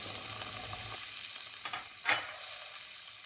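Dry onions fry in a pan for a Brussels sprouts dish, a faint steady sizzle with a few soft stirring clicks, close and quiet with no talk.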